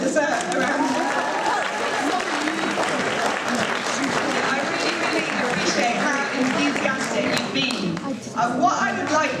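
Loud, dense audience applause fills a London public-speaking challenge event, sustained and close throughout, with a faint voice or cheer rising near the end.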